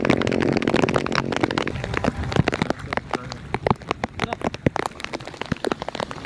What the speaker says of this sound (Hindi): बारिश अभी भी सेम स्पीड में जारी है